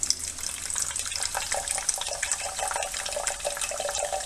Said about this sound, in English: This is Rob measuring out vinegar in litres by weighing it.